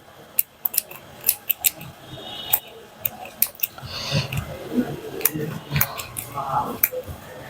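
Sharp scissor snips cut through the stitching of a pants waistband, belt loops and side seams, in irregular bursts of clicks over soft fabric rustle, close and fairly loud.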